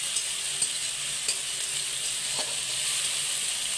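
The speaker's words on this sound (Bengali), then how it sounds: "পেঁয়াজ রসুন বাটাটাকে একটু খুব সুন্দর করে ভেজে নেব" Onion and garlic paste frying in a pan, a steady close sizzle with faint stirring scrapes, with no talking.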